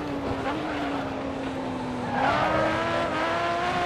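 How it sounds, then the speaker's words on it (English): Race car engines in a racing video game drone steadily while tires squeal in long sliding skids, the screech rising louder partway through over constant engine noise. "I already hear them sliding around back there."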